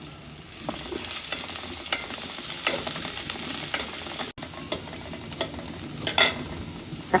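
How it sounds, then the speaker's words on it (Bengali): Chopped onions sizzle in hot oil in a pan, with steady crackling and frying under occasional stirring and scraping sounds, close and continuous. "তেল দিলাম, কেটে রাখা পেঁয়াজগুলো দিলাম।"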